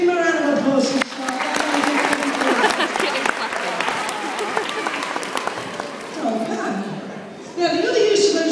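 An audience at a sea lion show breaks into applause and cheerful chatter, with a presenter's voice heard before and after the clapping.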